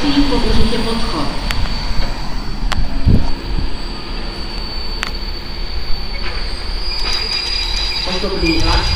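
A passenger train pulls into a Slovak station at Púchov, its wheels squealing in a high, sustained whine with intermittent clanks, while a station announcement plays over the platform.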